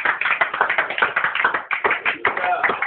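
Loud, steady clapping from a church congregation welcoming the apostle Daniel before the sermon, a dense rhythmic patter with voices mixed in.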